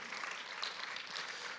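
Steady applause from a church congregation, faint and distant, a continuous patter of clapping with no voices on top.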